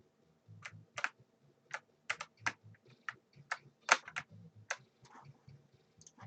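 Steady typing on a computer keyboard while working in GameMaker Studio 2, with close, crisp key clicks in uneven bursts and short pauses, no talking.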